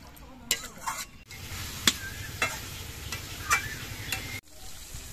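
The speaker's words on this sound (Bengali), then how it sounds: "মাছগুলো মশলার সঙ্গে আমি 3-4 মিনিটের মতো কষিয়ে নিয়েছি।" Snakehead fish being sautéed in spices in a pan, a soft steady sizzle with scattered clinks and scrapes of a stirring utensil, fairly quiet and close.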